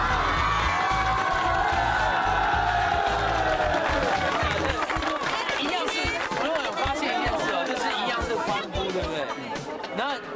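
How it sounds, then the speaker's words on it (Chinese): Group of boys whooping and cheering loudly during a game-show contest, a boisterous crowd roar mixed with chatter and shouting that starts over background music and carries on throughout. "男生的欢呼就很像猛兽"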